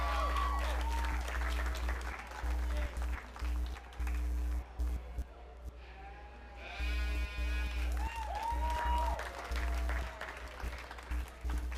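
Clapping from the audience at a youth sheep market show rings through the arena, mixed with frequent bleating from lambs in the ring and a steady low hum, with a brief lull partway through.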